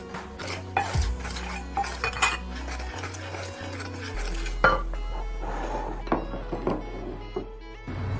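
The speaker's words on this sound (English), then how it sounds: "For the dough, I'm mixing 3/4 cup of mochiko and 1/4 cup of sugar into a bowl." Mochiko and sugar being mixed in a bowl, with a utensil clinking and scraping against the dish in irregular taps and stirs over a low steady hum, fairly quiet and close.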